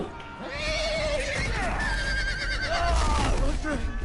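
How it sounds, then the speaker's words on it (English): A horse in a Game of Thrones video game gives a loud, drawn-out whinny, repeated twice in quick succession, with hoof clip-clop and voices talking underneath. "Ó o cavalinho."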